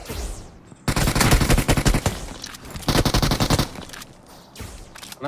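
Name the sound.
shotgun gunfire in the video game BGMI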